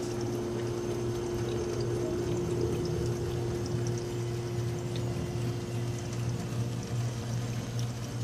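A tiny Russian Blue cat drinks from a running faucet, the water pouring in a steady, continuous stream close by with a constant hum beneath it and no talking.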